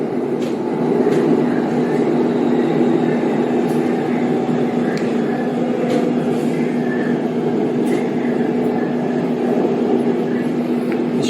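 Bangkok MRT Blue Line subway train pulling into Fai Chai station: a steady, loud rolling rumble with a sustained whine and faint rhythmic clicks runs throughout, with no break and no voices on top.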